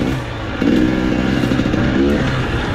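KTM motorcycle riding at night in Gifford Pinchot forest with an aftermarket exhaust: a steady, loud engine drone close by, with rapid crackling pops from the exhaust in short bursts over the continuous rumble.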